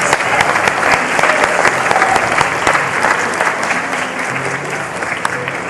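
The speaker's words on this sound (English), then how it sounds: "Please, can you give some claps for our students for their participation?" A crowd of students applauds steadily at a school English project event, dense continuous clapping filling the room without speech.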